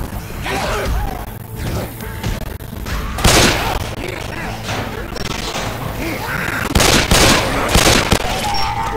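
Pistol gunfire in Left 4 Dead 2 during the Dark Carnival campaign, with sharp shots cracking out at irregular intervals over a dense backdrop of game noise, clatter and chaotic combat ambience.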